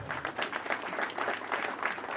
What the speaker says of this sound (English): Please let us give them claps.